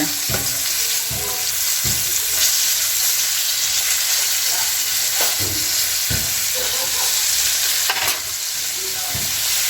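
Flour-coated asohos fish frying in a pan of oil, a steady close sizzle and crackle with occasional sharper pops and spatters, no voices.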